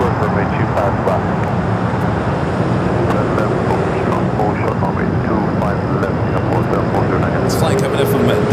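An airliner, a 737 MAX 9 arriving at LAX from Dulles: a loud, continuous jet roar holds steady throughout beside the runway, with a voice talking over it.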